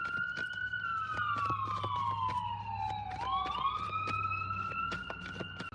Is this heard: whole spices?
no